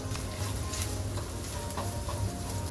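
Rice and sausages frying in a pan over medium heat, giving a steady, dense sizzle that holds close and even throughout without pause.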